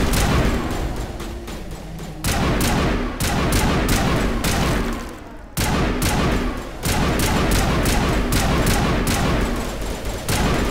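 Rapid, steady gunfire in Mass Effect Legendary Edition, long loud bursts of repeated shots with a short lull midway before the shooting resumes, close and dominant.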